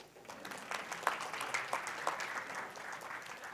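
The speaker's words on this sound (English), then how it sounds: "I was supposed to have claps." Scattered applause from an audience, a short burst of clapping heard somewhat distant and fairly faint.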